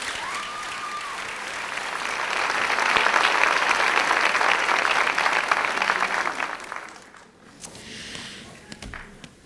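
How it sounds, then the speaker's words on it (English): An audience at a high school senior honors ceremony applauds students qualified for national FCCLA competitions, a dense wash of clapping that swells and holds steady before thinning out near the end. "Please give them a round of applause."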